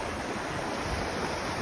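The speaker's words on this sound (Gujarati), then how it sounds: "ઓકરામાંથી પાણી જાય છે" Floodwater after a downpour of heavy village rain rushes out through a culvert under a submerged bridge, a steady, loud, broadband roar of churning water with wind noise, continuous and close.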